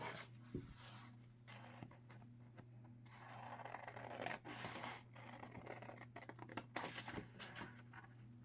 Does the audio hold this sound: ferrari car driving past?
no